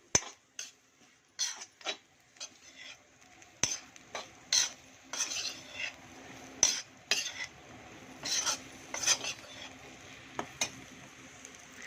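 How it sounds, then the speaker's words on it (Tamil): Eggplant pieces fry with masala in oil, a quiet sizzle broken by irregular metal spoon scrapes and clinks against the pan, near and distinct. "அந்த எண்ணெயோட மசாலாவோடு சேர்த்து நல்லா அந்த கத்திரிக்காய் நல்லா வறுப்பறட்டும்."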